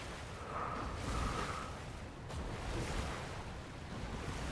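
A Fortnite character swimming through water, heard as steady sloshing and washing water noise with a surf-like rush, constant and fairly close, with no talk.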